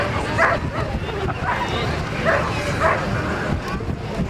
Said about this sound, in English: with her Belgian Shepherd dog